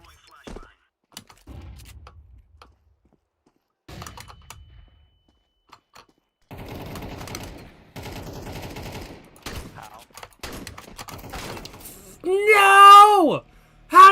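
Gunfire crackles in the video game Counter-Strike 2 as a few sparse clicks give way to dense bursts of rapid shots, followed by a short vocal outburst and a final sharp report.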